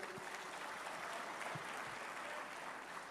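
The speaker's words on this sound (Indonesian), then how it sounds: "Mbak Puan Maharani, kita berikan aplaus" Applause from an audience at an Indonesian political gathering honoring the DPR chair, a steady wash of many hands clapping, distant and even for the whole span, fairly faint.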